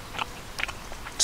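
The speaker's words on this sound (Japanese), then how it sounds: "お、カリカリベーコン。" Crispy bacon bitten and chewed at a campsite, with a few faint, close crunches spread across a brief moment and a sharper crack at the end, over a quiet background.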